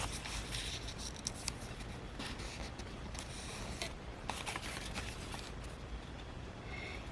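Scissors snip through folded paper while making a junk journal page, a quiet series of close, crisp cuts and light paper rustles with no talking.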